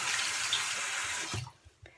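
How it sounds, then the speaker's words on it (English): Tap water runs hard into a sink as makeup is rinsed from a damp washcloth, then the flow cuts off abruptly, leaving a few soft drips and handling sounds. "And I just rinse that makeup off of the washcloth."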